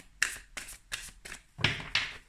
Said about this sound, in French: Je tire les cartes devant vous.